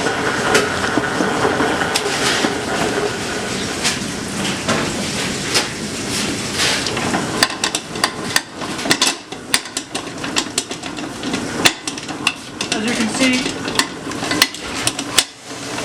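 Hamantashen dough is mixed until fully incorporated, with a continuous clattering, scraping churn and irregular knocks and thumps from the mixer, loud and close with no talk.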